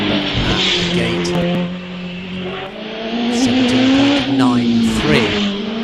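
A 1300 supercharged race car climbs at a hillclimb, its engine revving loudly and steadily as it passes close by and heads into a right-hander, under a commentator's talk.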